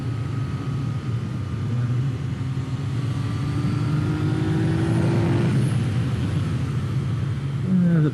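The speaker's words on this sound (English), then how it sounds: "Just love that 3-cylinder sound." Three-cylinder motorcycle engine heard steadily from the saddle while riding along a rural road past ranch driveways, a continuous droning rumble mixed with wind, pitch sweeping upward as the bike accelerates near the end.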